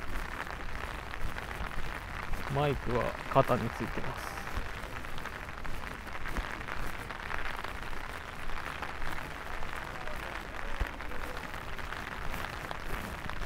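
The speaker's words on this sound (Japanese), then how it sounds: "傘のこのパチパチパチパチ水滴、雨粒の音が入って聞こえないかもしれないですね" Raindrops patter steadily on an umbrella while someone walks around a cyclocross race venue in Maebashi in the rain, a constant close crackle of drops under a person talking.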